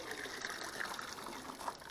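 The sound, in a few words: water gushing as a water-filled hydro dip tank is pulled up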